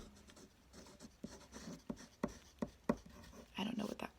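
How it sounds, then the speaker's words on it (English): A pen scratches on paper at close range, writing down a word and a page number in short, irregular strokes with soft taps between them. "I'm gonna write that down."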